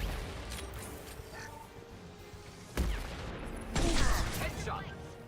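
Gunfire erupts in a Mass Effect video game battle: two short, loud bursts of shots with mechanical clatter and ringing tails, set against a low, murky background of combat ambience.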